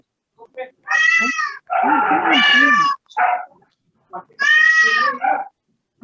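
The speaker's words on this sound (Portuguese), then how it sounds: "Aí, o gatinho." A cat meows several times in a row, drawn-out, tonal calls with short pauses between them, loud and close against an otherwise quiet background.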